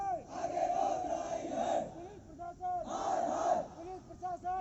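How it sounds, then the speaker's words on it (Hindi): Crowd of police trainees shouting slogans in unison during a riot-control drill on a parade ground, loud massed voices in two sustained bursts with brief pauses between. "नारेबाजी करते हुए आगे बढ़ रहे हैं।"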